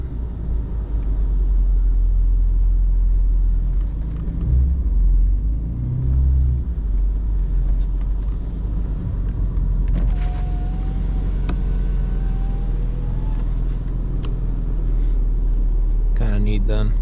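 BMW E39 sedan driving through a blizzard, a loud, steady low engine and road rumble throughout, with people talking over it inside the cabin.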